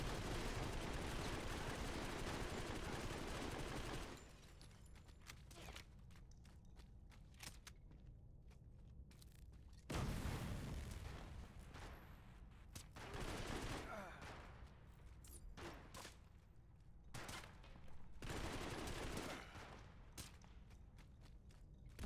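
Rapid automatic gunfire in the mobile shooter Modern Combat 5 during a 5v5 PC match, dense bursts opening the clip, then intermittent shots and sharp cracks with a renewed burst midway, and a voice speaking occasionally over the action.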